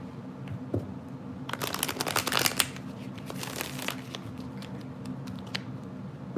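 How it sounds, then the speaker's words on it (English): A deck of tarot cards being shuffled by hand, a quiet riffling, fluttering patter that builds in the middle for a few seconds and then fades into faint rustling. "They're nice and shuffled, that's for sure."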